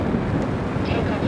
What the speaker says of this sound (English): And in this wind, and this is windy, guys, it's not too bad.